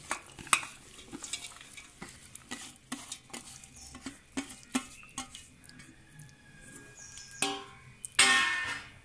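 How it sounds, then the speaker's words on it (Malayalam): Chopped raw mango being moved into a pickle vessel: a close series of sharp scrapes and clatters of utensil against the pot, irregular and separated by short pauses, ending in a louder rattling scrape. "അച്ചാർ ഇടാനുള്ള പാത്രത്തിലേക്ക് നമുക്ക് ഈ അരിഞ്ഞു വെച്ചിരിക്കുന്ന മാങ്ങേനെ മാറ്റി കൊടുക്കാം"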